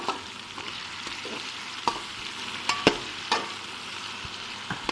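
Chicken frying on low heat in a pan for chicken tikka macaroni, a soft continuous sizzle punctuated by a few sharp metal stirring knocks.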